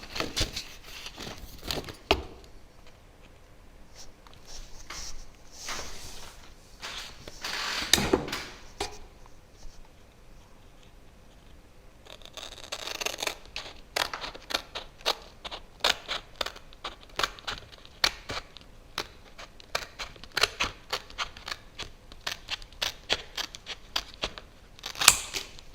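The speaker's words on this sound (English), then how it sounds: "we're going to take our scissors here and we're going to cut out our bats" Scissors snip through paper to cut out bat shapes for a chalk craft lesson, a close, quiet run of crisp clicks and paper rustles that grows into a steady, rapid series of snips later on, with no talking.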